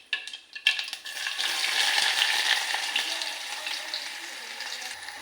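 Onion tossed into hot oil with cumin brings a few clattering knocks, then a loud, dense sizzle that holds steady and slowly eases, with no talking.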